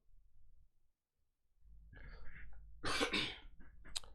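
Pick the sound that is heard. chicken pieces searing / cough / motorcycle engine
cough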